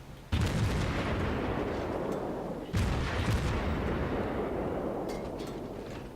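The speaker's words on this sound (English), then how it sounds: "Continuing to fire higher explosives because I want to incapacitate, start fires." Repeated heavy booms of the USS Omaha cruiser's guns firing high-explosive shells in a naval combat game, two big salvos with rumbling tails filling the clip, loud and close.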